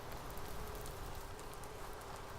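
Rain falls steadily in the TerraFirmaCraft survival game as a soft, even hiss that stays constant and fairly faint from start to finish.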